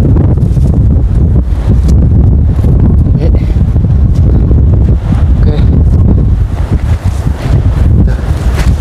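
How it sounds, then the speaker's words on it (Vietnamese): Strong sea wind roars across the microphone during seaside kite flying, a loud, continuous buffeting rumble with gusty surges throughout and no clear break. "Gió vi vu các bạn này"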